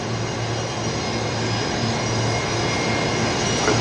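Jetstar A321 jet departing Brisbane Airport, a steady broad engine roar with a low droning hum, moderately loud and continuous, no voices.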